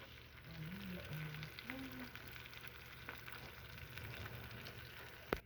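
Salmon sears in a hot pan with seasoning and oil, a soft steady sizzle heard faintly at a low level, with a few quiet incidental kitchen noises and no clear speech.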